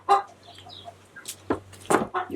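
A hen clucks a few times in short, uneven bursts amid a quiet farm setting during a goat milking routine, with a low steady hum underneath and no talking.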